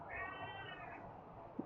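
A cat meows at low level indoors, a drawn-out rising and falling call over a steady background hum.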